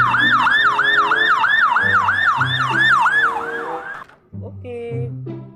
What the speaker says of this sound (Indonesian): Oke, kita mendapatkan ambulan.